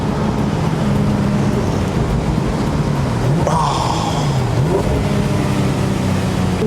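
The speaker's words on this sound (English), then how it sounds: "Just imagine the sound of this engine, the sound of this exhaust." A 2019 Porsche 911 Speedster engine drones steadily with a brief rise in revs partway through, wind and road noise underneath, no talking.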